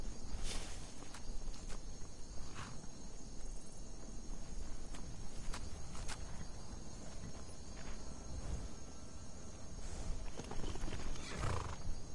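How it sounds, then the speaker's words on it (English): Horses in Skyrim clip-clop and shuffle nearby while one neighs, with crickets chirping in the background; a steady outdoor ambience with occasional sharp hoof clicks. "I'm honestly trying to steal these horses right now."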